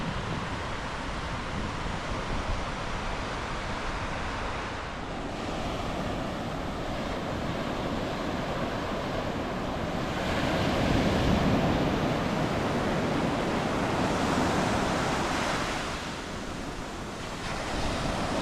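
Steady roar of ocean surf breaking on a beach in early morning at low tide, continuous washing waves with gentle swells in loudness, mixed with wind buffeting the microphone, and no voices.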